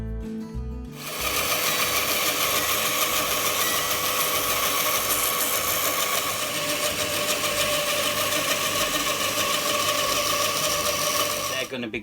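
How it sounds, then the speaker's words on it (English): A bandsaw starts up and resaws a board lengthwise for wooden gates, holding a loud, steady, buzzing whine close by for over ten seconds before spinning down at the end. "I've set up this bandsaw, so I'm going to resaw this down."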